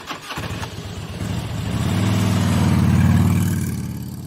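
A motorcycle engine starts and settles into a low, steady rumble that swells in loudness then eases, heard close and alone.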